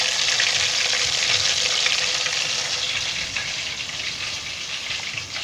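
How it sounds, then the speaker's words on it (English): Flour-coated catfish frying in hot oil on low heat, a steady, loud, dense sizzle and crackle holding evenly throughout, no talking. "and let us start to fry"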